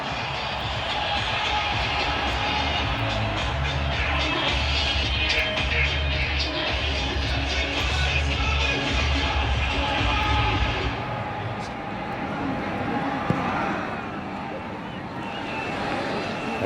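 A college football stadium crowd at a Kansas Jayhawks vs. BYU Cougars game, a broad steady roar and hubbub of fans building up, with a commentator talking over it before the noise eases off near the end.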